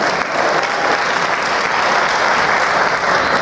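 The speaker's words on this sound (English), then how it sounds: "Clap for your parents." A crowd of parents at an ensemble concert gets dense, sustained applause, loud and close with no letup across the few seconds.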